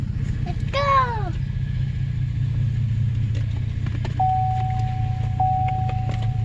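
A 2014 Chevrolet Silverado pickup rolls down the block after a differential swap, its engine a steady low rumble throughout, with a brief chirping sweep near the start and a thin electronic tone chiming twice later, no talking.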